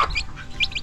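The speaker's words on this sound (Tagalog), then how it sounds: "Ito yung bagong pisa na mga sisiw." Newly hatched chicks peep in quick, high-pitched bursts, close and clear, with short gaps between the calls.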